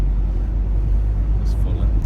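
A 1953 AEC Regal IV bus engine rumbling low and steady while it overtakes a cyclist, heard close with a deep continuous drone.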